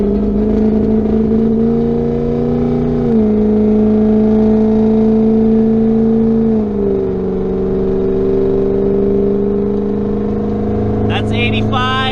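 A diesel pickup truck in performance and tow haul mode accelerates hard, a loud, close engine drone that climbs in pitch and drops at two gear shifts, with a brief clatter near the end.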